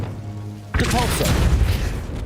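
A spell impact blasts in the Hogwarts Legacy video game: a single sudden loud burst after a quiet lull, followed by a sustained rumbling, whooshing tail with a few brief tonal sounds inside it.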